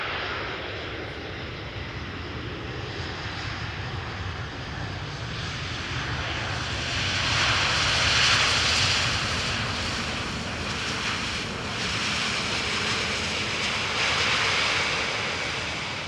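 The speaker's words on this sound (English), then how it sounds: "This is EasyJet A320neo flight 27866 arriving from Geneva." EasyJet Airbus A320neo jet arriving at Amsterdam Schiphol Airport, a broad continuous engine roar that swells gradually to a peak midway and stays loud, heard from outdoors nearby.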